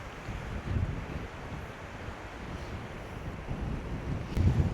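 Strong wind gusts across an open riverbank in the Sundarbans, a loud continuous roar buffeting the microphone with surges near the start and end, no voices.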